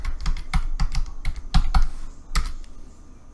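Rapid keystrokes on a computer keyboard, a quick burst of close, crisp clicks for a couple of seconds before trailing off into a few softer taps.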